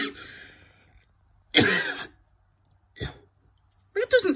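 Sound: cough

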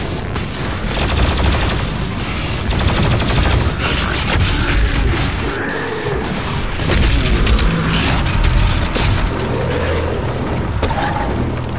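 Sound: shotgun firing in video game Doom Eternal

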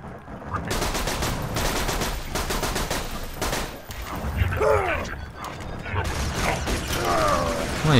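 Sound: fire missiles being shot in video game Borderlands 2

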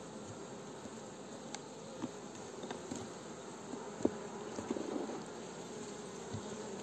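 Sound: honeybees buzzing at an open beehive

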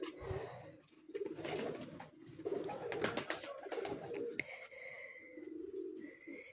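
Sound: racing pigeons cooing on a rooftop

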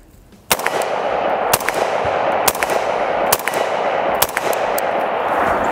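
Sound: AR-15 rifle firing with a heavy H4 buffer

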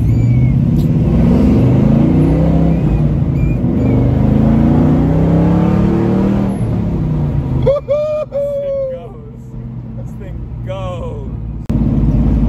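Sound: 1970 split bumper Camaro with LS1 engine driving

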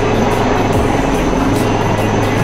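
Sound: Indian Coast Guard HAL Dhruv light helicopter flying

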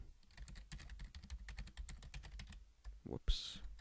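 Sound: typing an email address on a computer keyboard

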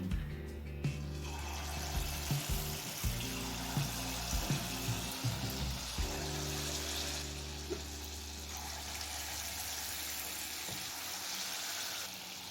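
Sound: mango leather fritters (aamsotto bora) frying in hot oil

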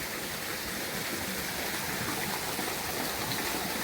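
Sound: mountain stream flowing water

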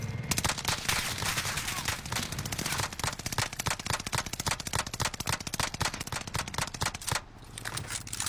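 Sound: gunfire from shooting in Call of Duty Warzone video game

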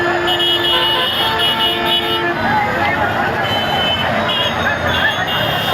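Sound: busy road traffic with honking vehicles

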